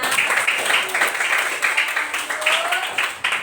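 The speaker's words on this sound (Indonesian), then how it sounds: "tepuk tangan semuanya" A classroom of children claps together in an uneven, rhythmic volley of hand claps, close and fairly loud, with a voice heard briefly partway through.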